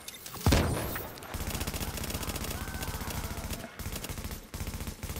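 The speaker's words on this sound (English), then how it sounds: "I'm gonna use an incendiary bullet" Incendiary rounds fire in rapid sustained bursts in Tom Clancy's The Division, opening with a heavy thump and then a loud, steady machine-gun rattle that pauses briefly near the end before resuming.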